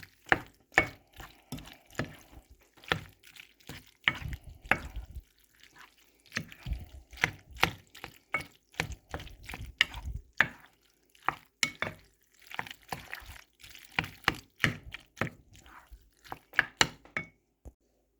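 Cheese sauce packet stirred into a dish for a family barbecue, with a run of wet, sticky clicks and scrapes from a utensil in an irregular rhythm, close and fairly quiet with short pauses.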